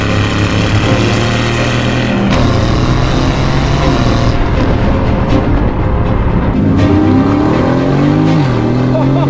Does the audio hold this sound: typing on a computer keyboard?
no